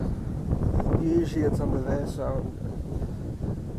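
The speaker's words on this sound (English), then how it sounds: "It's a little bit windy up here." Wind buffets the microphone on a windy mountain top, a steady low rumble running under a person talking throughout.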